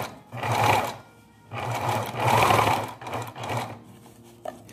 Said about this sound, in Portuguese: nós vamos precisar agora vir costurando reto